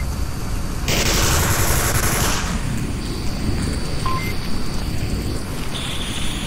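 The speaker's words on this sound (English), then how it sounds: "I'm just shooting through a bush." Gunfire in the VR shooter Onward rings out during a league match as someone shoots through a bush, loud continuous rattling bursts over a dense wash of battlefield noise, with no talking.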